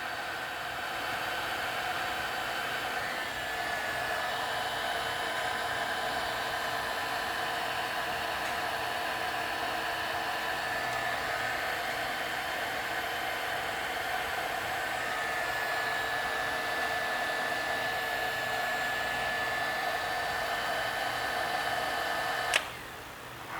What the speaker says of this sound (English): so got my heat gun here